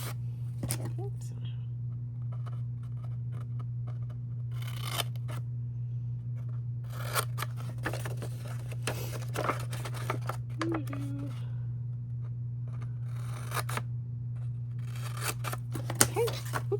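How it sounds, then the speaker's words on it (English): Scissors snipping along the seams of a paper treat bag, with short crisp cuts in several bursts over a steady low hum, with a person talking softly between the cuts. "you're going to cut along those seams"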